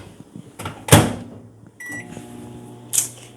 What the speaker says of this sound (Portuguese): Vou colocar ele no micro-ondas 30 segundinhos.